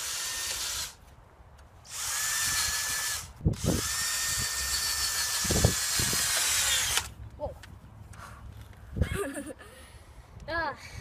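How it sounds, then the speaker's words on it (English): A power drill fitted with a planting auger bores into garden soil in several loud bursts of whirring, separated by pauses with short knocks and thuds, and the motor winds down near the end. "this wonderful tool that you can attach to the end of a drill that has a marking of 6 inches that you can just stand up and just drill fast"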